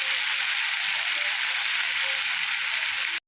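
Chutney ingredients sizzle steadily in a hot pan as they are sautéed, a dense, even frying hiss running throughout with no talking, cutting off abruptly at the very end.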